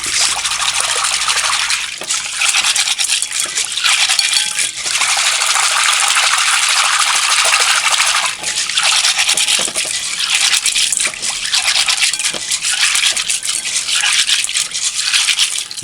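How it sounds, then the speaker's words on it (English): Beans being washed by hand in water and white vinegar, a loud close sloshing and rubbing with trickling water, continuous with brief pauses and no talk. "Wash the beans with the white vinegar and just wash these."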